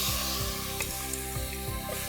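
Tomatoes hit a pan of frying onions in a Tamil home-style recipe, giving a loud, steady sizzle with repeated stirring scrapes pulsing through it, close up and with no talking.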